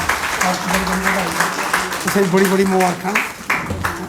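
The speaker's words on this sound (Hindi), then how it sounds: "तालियों से उनका अभिनंदन" Applause at a BJP headquarters felicitation in Jammu for Sanjita Dogra, a crowd clapping steadily beneath a voice speaking over it throughout.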